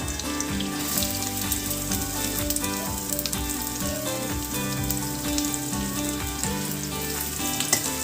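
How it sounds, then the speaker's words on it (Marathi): Chopped onion fries in a pan with a loud, continuous sizzle and crackle that holds steady from start to finish, with no voices over it. "कांद्याला आपल्याला थोडं चांगलं परतवून घ्यायचं आहे।"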